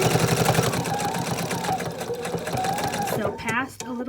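A sewing machine runs steadily while stitching plush minky microfiber fabric, a close, continuous mechanical whir that stops near the end.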